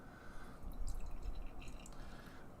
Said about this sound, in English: So without further ado, let's pour this guy. I'm going to be drinking out of my Untappd tulip glass this afternoon.